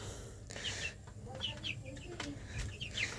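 Broiler chicks chirp and peep in short high calls from inside a chicken house bedded with husk, scattered and fairly faint under a low background hum, with a voice speaking among them.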